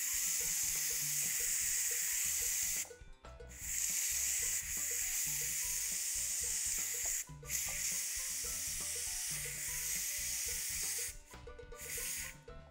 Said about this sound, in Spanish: ¿Vieron qué clase de presión cogen estas ollas?